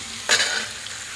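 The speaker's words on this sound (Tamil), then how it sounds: "இப்போ நான் அதில் கடுகு வெங்காயம் ரெண்டையும் ஆட் பண்ணிக்கிட்டேங்க." Mustard seeds and onion hitting hot oil for bottle gourd kulambu: a sudden loud sizzle bursts out, then settles into a steady close hiss, with no voices.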